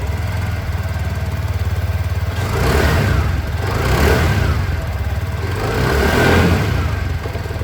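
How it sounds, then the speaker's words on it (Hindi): A TVS Jupiter 110 scooter's exhaust runs close up with a steady low idle, swelling through three throttle blips before settling back, with no talking. "अब मैं आप लोग को यहाँ पर जुपिटर 110 की जो एग्जॉस्ट साउंड है"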